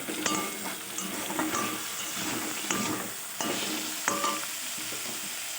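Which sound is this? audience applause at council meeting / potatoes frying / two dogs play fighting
potatoes frying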